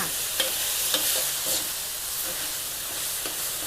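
Mushroom and holy basil stir-fry being tossed in a hot pan, a steady close sizzle with scattered soft clicks and scrapes of the spatula, no voices.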